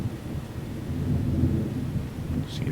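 Deep, sustained rumble of thunder rolling through a severe nighttime thunderstorm in Lincoln, Nebraska, loud and low, swelling in the middle and lingering for the whole stretch with no voices.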